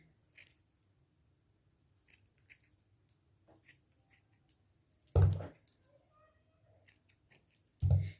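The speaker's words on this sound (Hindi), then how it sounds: "इसे कैंची के हेल्प से काट लें" Scissors snip thread while a shawl is being stitched, giving scattered light clicks followed by two louder sharp cuts, close and isolated with no talk.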